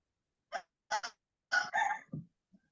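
A few honking, nasal calls from farm fowl, ducks and chickens on a small rural property, in short separate bursts followed by a longer run of squawks, quite faint and otherwise quiet.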